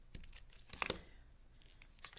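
Tape rips off a roll for paper crafting, a few quick, faint tearing and crinkling bursts close by, with quiet handling noise between them.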